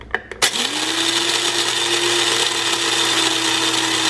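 After a few sharp clicks, an electric coffee grinder spins up and runs with a steady, loud motor whine and grinding rattle that continues unbroken to the end.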